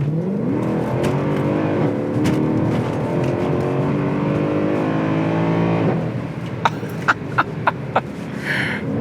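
A Mercedes-Benz W204 C63 AMG engine revs and drones steadily with a rising, harmonic roar, then settles as a few sharp pops and crackles sound near the end.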